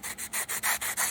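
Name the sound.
hand sanding plastic model tank track links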